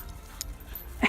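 A dog gives a brief, high whimper right at the end of a short quiet stretch on a mountain hike, faint and close, with soft outdoor background rumble.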